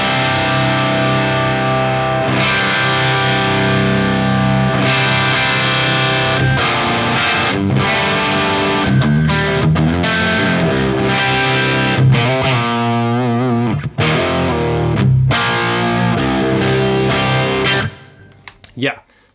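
Electric guitar played through a Jet City JCA22H amp on its crunch channel, loud and steady with crunchy distorted chords and riffs ringing out close for the whole stretch before cutting off abruptly near the end.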